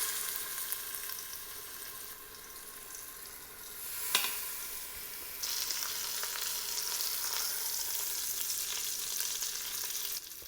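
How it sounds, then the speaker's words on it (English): Pork searing in an Instant Pot, a steady bright sizzle going throughout, with a sharp click near the middle and the frying growing louder afterward, close and continuous with no voices. "We'll go ahead and pull it from the Instant Pot and get ready to sear the other two."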